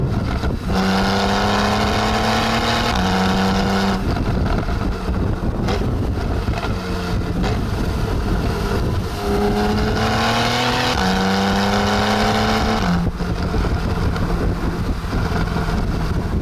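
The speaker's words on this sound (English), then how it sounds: "put this into Sport Plus mode and it starts to give you lots of pops and cracks" A Porsche 991.1-generation 911 driven in Sport Plus mode, the engine and exhaust rising through the gears in loud, close pulls with short drops at each shift, under steady wind noise and with no talk.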